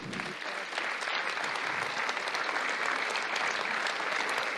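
A crowd claps steadily and evenly for the winner at the closing ceremony of a French chess championship, a dense, sustained applause heard from within the hall.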